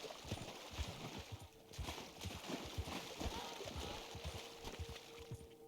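Horse hooves clip-clopping at a walking pace in the video game Red Dead Redemption, a quiet, steady run of soft thuds over ambient game background.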